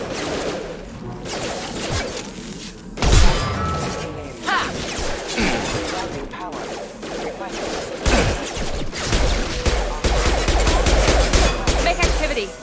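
Colony defense systems fire in Mass Effect 2, with bursts of mechanical gunfire and clattering impacts that come and go among other battle noise, and a voice talks at times.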